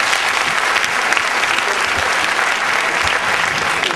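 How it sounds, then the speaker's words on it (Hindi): Loud, close audience clapping during a hypnotist's stage demonstration of pain tolerance, a brief dense burst of applause filling the room. "और तालियां बजाइए।"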